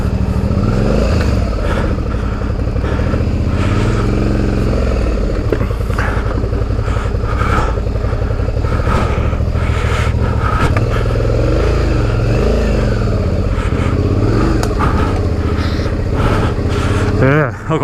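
A V-Strom 650 motorcycle engine revs loudly and continuously while the bike is bogged in soft mud, its pitch surging and falling in repeated throttle bursts, with some mechanical clatter up close.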